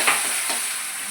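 Asafoetida, crushed garlic and chilies dropped into hot oil for a Gujarati tuver totha dish, a bright close sizzle with a couple of quick stirring scrapes over about a second.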